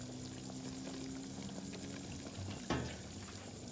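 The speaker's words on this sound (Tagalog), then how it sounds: "Kumukulo na." Water rolls at a steady boil in a cooking pot while a native chicken dish is prepared, a constant close bubbling hiss with one brief louder clatter near the end and no talking.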